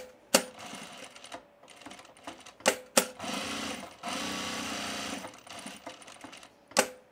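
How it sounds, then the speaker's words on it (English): Sewing machine running edge stitching along a tool belt with a short stitch length, in several bursts of even mechanical whirring separated by sharp clicks and brief pauses, close by. "let's edge stitch this"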